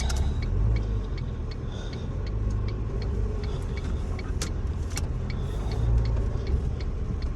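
A car driving along with a family inside, a low steady engine and road rumble underneath, with faint light ticking clicks scattered over it and no one speaking.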